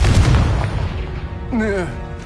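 A fire-spell blast in a Harry Potter video game: a booming burst at the start that decays into a rumbling tail, followed by a short voiced grunt or exclamation partway through.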